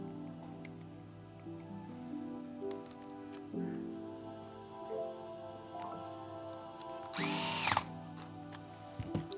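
A power driver fitted with a #1 Phillips bit drives screws back into a detachable clipper. Faint, intermittent whirring comes in short runs, ending in one brief louder burst, heard close up in a quiet room.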